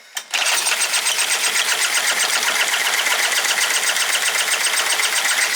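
A boat's outboard motor, hard to start and short on fuel, catches after a brief click and then runs steadily with a fast, buzzing, rattling drone, loud and close throughout.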